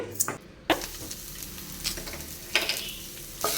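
Grated coconut fries in ghee in a hot kadai, giving a steady close sizzle broken by a few scraping stirs of a utensil against the pan.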